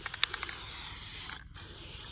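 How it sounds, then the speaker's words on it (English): Spray paint hisses from an aerosol can in a steady, close, loud burst as silver paint goes onto an assemblage artwork, cutting out briefly before spraying again. "stinks, this spray paint."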